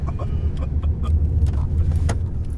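Steady low rumble inside a moving car, continuous road and engine noise throughout with small rattling clicks and a brief sharp knock, no talking.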